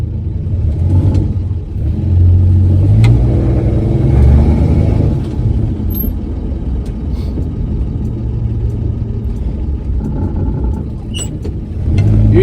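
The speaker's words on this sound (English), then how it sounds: "All right, we'll take it out for a test drive, see what happens." A 1966 Dodge Dart GT barn find rumbles along on a test drive, its low engine note heard from inside, swelling and easing with throttle, with occasional rattles and knocks over the steady drone and no talk.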